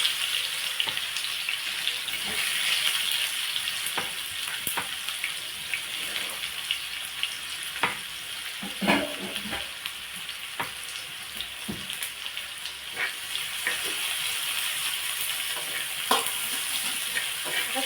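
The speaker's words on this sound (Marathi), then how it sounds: "जिरा छान तडतडला की त्यात कांदा घालायचा" Onion frying in oil with crackling cumin in a pan, a steady bright sizzle throughout with occasional scraping stirs and clinks, close and moderately loud, no talking.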